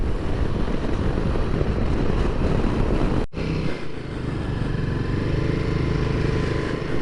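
A Royal Enfield Himalayan 450 motorcycle rides through Ladakh, its engine roar loud and steady under heavy wind rush, with one brief dropout partway through.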